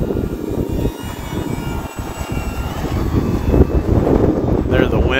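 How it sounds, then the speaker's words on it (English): Engine of an FMS Pitts V2 1400mm radio-controlled biplane droning in flight outdoors on a sunny day, steady and moderately loud with wind buffeting the microphone and a brief rise in throttle near the end. "We'll give it a little bit extra throttle as we turn back down the wind."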